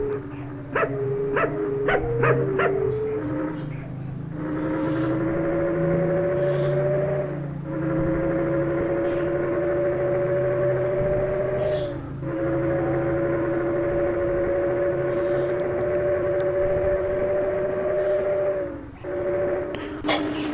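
Inside an Iguazu bus in Bus Simulator Indonesia, the engine drones loud and close, its pitch climbing steadily through several gears, with short dips at each shift.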